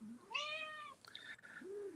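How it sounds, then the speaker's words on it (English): A house cat meows twice indoors in the evening: a long, drawn-out rising and falling cry, then a shorter, higher call. Both are close and clear, with no talking. "You can hear my cat being very vocal this evening."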